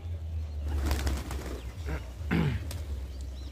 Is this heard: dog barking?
no